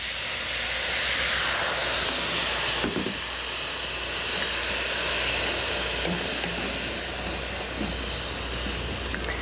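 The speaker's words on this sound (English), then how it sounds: "You can put a little bit of water in there just to get it steaming." Mushrooms and broccoli florets steaming in a pan with a little added water, a loud continuous hiss and sizzle heard up close, steady for the whole stretch with a faint clink partway through.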